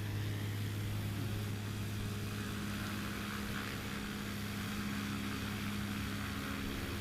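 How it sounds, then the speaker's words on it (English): A Cessna 205 single-engine propeller plane taxis to the line at a STOL competition at Patriot Airpark. Its engine drones steadily and fairly loud throughout, with a low, constant hum and no voices. "Brandon Korn taxiing to the line in that 205"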